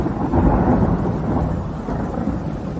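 A thunderstorm with deep, rolling thunder and steady rain, one loud continuous rumble that swells early and then eases slightly, heard alone without voices.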